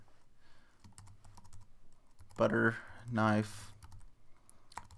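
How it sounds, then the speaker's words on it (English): A computer keyboard being used to type a commit message while editing a motorcycle trail in OpenStreetMap, with quick close clicks throughout and a voice speaking briefly over the keys in the middle. "So I'm going to type in a commit message"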